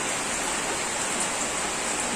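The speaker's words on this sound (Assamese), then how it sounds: "দেখিছেনে বৰষুণ দিছে যে দেখোন" Steady rain falling outdoors near a home, a dense even wash of droplets that stays loud and unbroken throughout with no talk.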